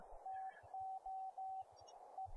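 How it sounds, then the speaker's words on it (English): A code practice oscillator produces a pure sine-wave Morse sidetone: clean, steady beeps in an even rhythm, some longer dashes with short gaps, clear against a quiet background with faint low thumps. "the microphone jack to import a code practice oscillator sine wave"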